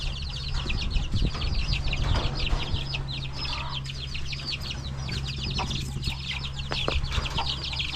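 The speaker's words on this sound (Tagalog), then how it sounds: "ibang manok" A flock of chickens clucking and chattering continuously, busy overlapping calls at moderate distance with occasional rustling and low background hum.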